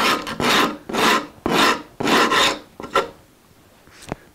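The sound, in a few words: sanding sharp guitar edges with 80 grit on a block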